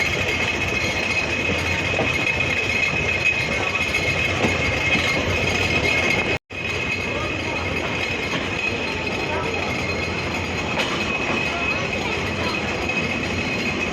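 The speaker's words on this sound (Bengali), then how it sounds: "খুলনা অভিমুখী ৭২৮ down Rupsa Doma railway station প্রবেশ করলো" Khulna-bound Rupsha Express intercity train pulling into Doma railway station, a loud continuous rumble of wheels and carriages rolling close by throughout, with a brief break midway.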